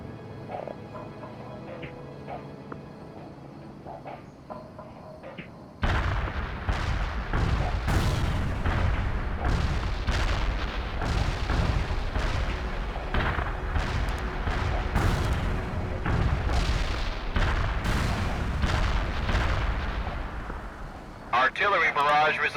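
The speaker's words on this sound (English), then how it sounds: "Heavy artillery barrage inbound." Heavy artillery barrage in the World in Conflict video game, a dense, continuous pounding of booming explosions that starts abruptly and rolls on loudly for over fifteen seconds, with faint radio-style voices around it.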